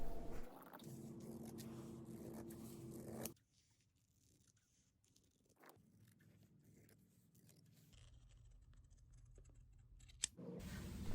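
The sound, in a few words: scissors cutting fabric for a skirt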